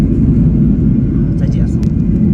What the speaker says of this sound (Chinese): 马上要着陆了，哎呀，落地了